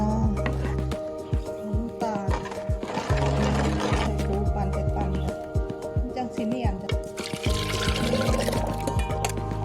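An electric blender whirs loudly and continuously as it blends a durian custard mixture of egg, flour, salt and milk, its motor drone steady and close throughout.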